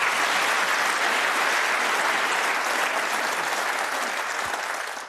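A knowledgeable snooker crowd at the Players Championship 2024 applauds warmly during Ronnie O'Sullivan versus Zhou Yuelong, a dense, sustained wash of clapping from many hands that holds steady for several seconds before starting to fade.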